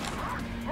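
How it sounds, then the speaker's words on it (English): Dogs bark in the shooter game Wolfenstein: Youngblood, a quick burst of yips and barks amid dense game noise and a steady hum, with a player's voice faintly underneath. "Oh, dogs."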